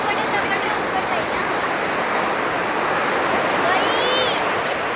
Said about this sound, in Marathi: पण इकडे बघा, खूप उसळलेला समुद्र आहे.